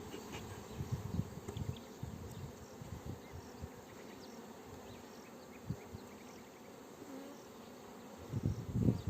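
Honeybees buzz around an opened beehive, a soft continuous hum of many wings with individual bees droning past close by, swelling again at the end; no one speaks.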